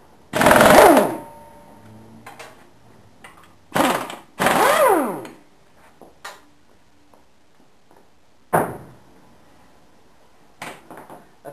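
A 17mm socket tool works loose both drive pulleys on a scooter, giving three short whirring mechanical bursts near the start and middle, followed by sparse isolated clicks and taps in a quiet workshop.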